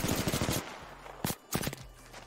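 Apex Legends gameplay: a burst of rapid automatic gunfire opens the clip, then two more separate sharp shots follow, each loud and cracking against quieter game ambience.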